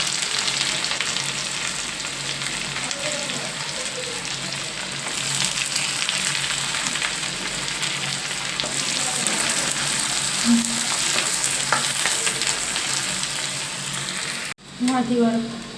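Onions and cumin frying in a pan, a steady close sizzle that runs throughout with scraping stirring noises over it and a brief drop near the end.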